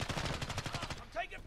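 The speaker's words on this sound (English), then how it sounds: "I'm taking fire." Rapid automatic gunfire in a Call of Duty team deathmatch, a quick burst of about a dozen evenly spaced shots followed by a brief tonal effect, moderately loud and steady.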